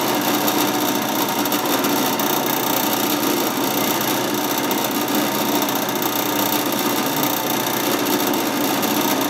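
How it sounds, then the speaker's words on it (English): Power drill boring and tapping holes in a part for a homemade 6 meter hex beam antenna, a continuous loud whirring grind that holds steady throughout without pauses. "I've drilled and tapped all four of those holes."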